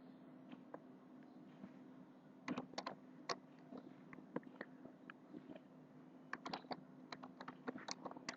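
Clicky keystrokes on a computer keyboard while C code is typed, coming in irregular bursts and short runs of close taps over a steady low hum, with no voices.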